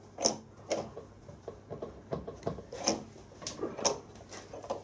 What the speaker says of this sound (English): Tighten the vise back up.